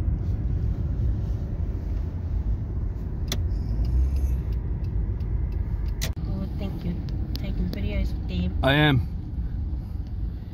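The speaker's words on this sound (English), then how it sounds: "a truck right in front of us" Truck rolling just ahead of a car on a city road, a steady traffic and engine rumble throughout with occasional clunks, while people talk over it.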